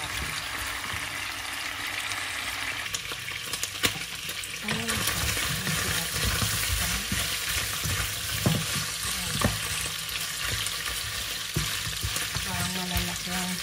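Pork and beef steak browning in a hot pan, a steady sizzle and frying crackle with occasional stirring scrapes, some water splashing and faint voices in the background.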